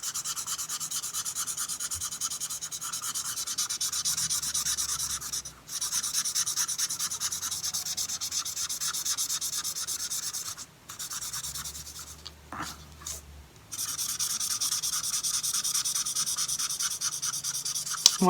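Coloured pencils rubbing back and forth over paper to blend colours, a close, continuous scratchy shading with a few short pauses between passes.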